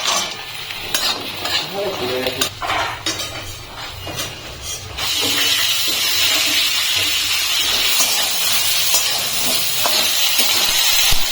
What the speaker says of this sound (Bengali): বাকি মাছগুলো ভেজে নেবো এক এক করে